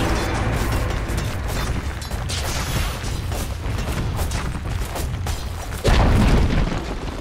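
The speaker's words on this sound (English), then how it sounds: "Dire's middle tower has fallen." A Dire middle tower collapses in a Dota 2 match, heard as a deep boom near the end over a dense, continuous wash of battle noise and effects.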